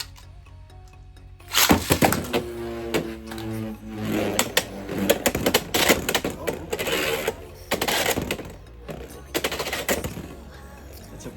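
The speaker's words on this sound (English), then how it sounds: "Alright, now for some test spin. Here we got our Reaper Incendio." A Reaper Incendio T 4-70K Beyblade launches with a sharp clack, then spins and rattles around a stadium for several seconds, with repeated hard clicks and scraping collisions up close.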